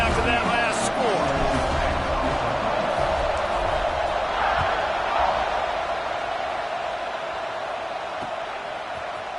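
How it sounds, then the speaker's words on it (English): A football crowd buzzes and roars steadily after a score and a good extra-point try, a dense, loud wash of voices that eases slightly toward the end while a commentator talks over it. "this crowd is buzzing after that last score"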